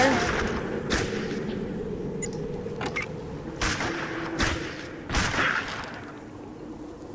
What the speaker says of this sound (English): They will start shooting. Stitch will start shooting when they run in the building, like so.